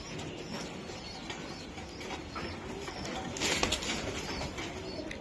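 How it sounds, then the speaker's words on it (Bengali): Racing pigeons at a loft coo softly and steadily with faint wing flutters, a low murmuring flock close by and continuous, with no voices. "এই যে কবুতরগুলো আমি দেখাই দিলাম"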